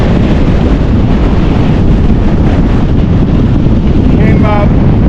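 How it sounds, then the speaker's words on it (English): Strong, steady wind roars and buffets the microphone at a high mountain pass on the Pacific Crest Trail, a loud continuous rush with a brief faint voice near the end. "Pretty windy."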